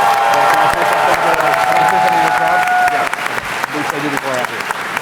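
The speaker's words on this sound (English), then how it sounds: "can we do a final round of applause for the team of Supergiant Games?" A packed panel audience applauds the Supergiant Games team at a 10-year anniversary event, with loud, sustained clapping and scattered cheers filling the room throughout.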